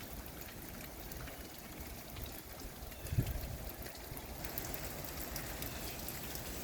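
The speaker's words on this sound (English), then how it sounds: "raining." Steady rain falls outside on a rainy July day, a constant soft hiss and patter heard from indoors, fairly faint and unbroken, with a single small knock partway through.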